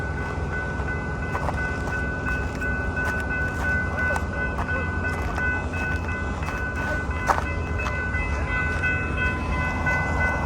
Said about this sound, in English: We have 2 Siemens Charger locomotives, 1 P42 locomotive.